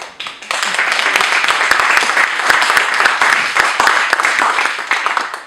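Audience applause following a speech at a meeting of intercultural consultative commissions, dense steady clapping from a large room that swells quickly and fades at the end.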